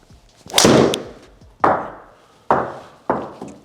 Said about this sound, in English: I've hit two so out of the toe that the spin has dropped massively